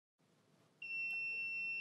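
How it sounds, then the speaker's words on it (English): A single steady electronic beep from an Afidus time-lapse camera powering on starts partway through and holds, sounding clear and fairly close over a faint hiss. "You will hear a beep."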